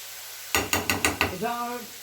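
Leeks and mushrooms sauté in a pan for a tartiflette, with five evenly spaced scraping stirs of a utensil close up, followed by a brief voice.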